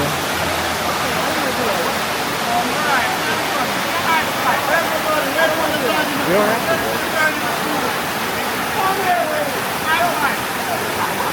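Dunn's River Falls in Jamaica pours and splashes in a loud, continuous roar of falling water, with faint voices of people climbing nearby mixed into the wash.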